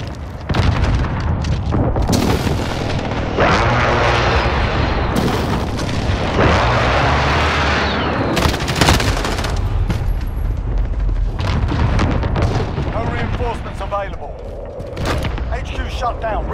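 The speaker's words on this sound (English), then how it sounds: "Airstrike inbound." Airstrike explosions in Call of Duty: Modern Warfare, a run of loud, deep booms and blasts mixed with gunfire and game mechanisms, with game voices speaking over the din.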